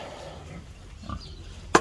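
Sow being herded on a farm, giving a short low grunt partway through followed by a sharp, loud knock or click near the end, over quiet background noise with no talking.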